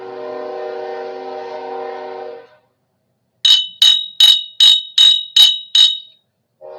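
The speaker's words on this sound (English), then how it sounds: "There's the Kansas City Southern Railroad, eastbound to New Orleans, 5:30 train," A Kansas City Southern freight train horn sounds nearby in seven short, evenly spaced blasts, following a steady low rumble of the train rolling past.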